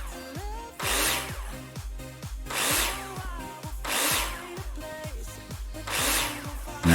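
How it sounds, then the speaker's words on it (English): A cordless drill driver in Builder Simulator whirs in four repeated bursts as it sinks screws into a window and door frame, each burst rising and settling before a brief pause. "you go to your drill driver because you need to screw them in"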